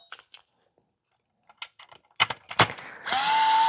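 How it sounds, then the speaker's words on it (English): Screws come out of a Hayward TracVac pool vacuum suction cleaner with a Phillips #2 driver: scattered sharp clicks and small clatters, then a steady close whirring motor at the end, with no voices. "Let's remove these screws."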